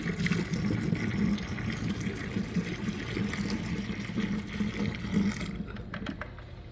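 Boiling water, about three and a half cups, pours steadily down a clogged sink drain with a continuous gushing, gurgling rush that holds for several seconds, then stops abruptly.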